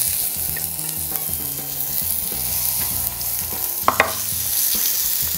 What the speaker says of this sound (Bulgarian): Всички доматчета ще намажа с зехтин и ще ги сложа за минута-две на грил